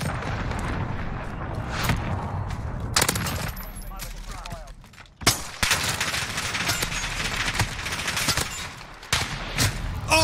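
Rapid automatic gunfire from a Call of Duty: Modern Warfare match, loud bursts and fusillades rattling for about ten seconds with a brief lull in the middle and sharp cracks throughout.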